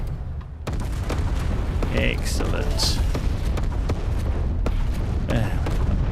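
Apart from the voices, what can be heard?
spaceship explosion in EVERSPACE 2 video game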